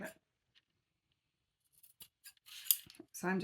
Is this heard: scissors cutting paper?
yes